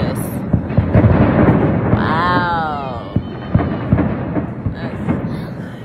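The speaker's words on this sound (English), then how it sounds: "I'm pretty sure you guys can hear the fireworks." Fireworks going off outside, heard from a balcony as a series of distant booms and rumbling thumps, with a brief whistling rise in the middle and no talking.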